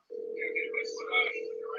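A telephone rings out over speakerphone, a steady tone with warbling upper bursts running continuously for nearly two seconds, close and moderately loud.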